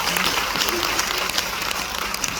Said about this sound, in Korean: 박수 한번 치고 넘어가겠습니다